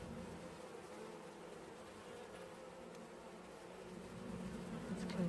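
Honey bees swarm around an open hive, giving a dense, steady buzz that stays close and fairly quiet, swelling slightly toward the end.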